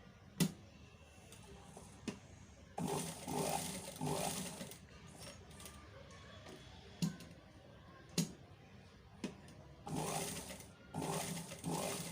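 Sewing machine stitching fabric while a trouser is made: two bursts of rapid, rattling stitching, each a couple of seconds long, separated by softer clicks and pauses.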